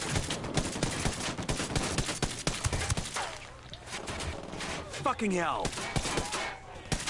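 Gunfire in Ghost Recon Wildlands on PS4: dense bursts of shots crackle through the first half, ease off, then return with loud cracks near the end, with someone shouting over the shooting.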